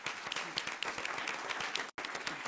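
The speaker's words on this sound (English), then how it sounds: "Can we give them another round of applause?" An audience applauds with steady clapping throughout, briefly cut off near the end.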